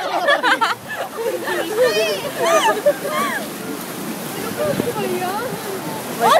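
Rushing river rapids roar as a steady broadband wash of water throughout, with excited voices shouting and talking loudly over it.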